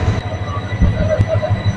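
A nearby train rumbles low at Chattogram Railway Station, Bangladesh, with rhythmic thumping pulses and a brief metallic squeal as it begins moving.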